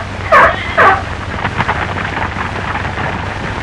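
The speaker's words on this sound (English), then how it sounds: "Zebras in zoos over here rarely make any kind of a sound, but this shrill bark is common both day and night in Africa" A zebra in Africa lets out two sharp, shrill barks in quick succession, loud and near, followed by a murmuring, rumbling background.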